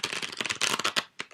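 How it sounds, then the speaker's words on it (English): Rapid crisp riffling of a gilded Cairo Marchetti card deck being shuffled, a fast burst of fluttering clicks up close, ending with a couple of short snaps. "let's give these cards a good shuffle"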